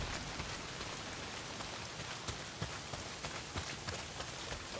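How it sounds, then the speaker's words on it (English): Heavy rain pours steadily in Days Gone, a dense, continuous downpour with scattered louder drops and splashes, loud and close with no voices. "Well, not if it's pissing down rain."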